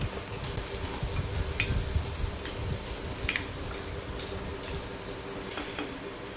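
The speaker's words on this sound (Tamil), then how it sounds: "இப்போ உப்பு, மஞ்சத்தூள் போட்டு வதக்கிக்கிறோம்." Steady sizzling and frying of onions with salt and turmeric fills the clip, with occasional light clicks of a spoon stirring in a pan.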